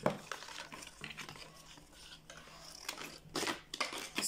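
Scissors cutting through sandal material, heard as a series of close, irregular snips and crisp rustles, with a few louder cuts toward the end and no talking.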